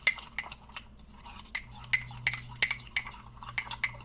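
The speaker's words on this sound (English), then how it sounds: "we're going to stir it up" A spoon stirs egg yolk into chocolate chip cookie dough in a bowl, giving a steady run of light clinks and scrapes against the bowl's sides, close and fairly quiet, with no talking.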